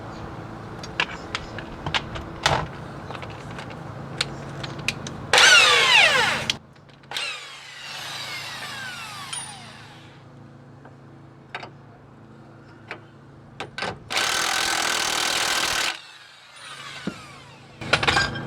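An impact wrench tightens a stabilizer link on a 2011 Ford Explorer in two loud, sustained bursts of rapid hammering, separated by quieter workshop clatter and tool handling.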